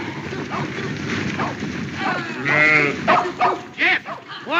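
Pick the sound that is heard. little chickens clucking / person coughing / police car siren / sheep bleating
sheep bleating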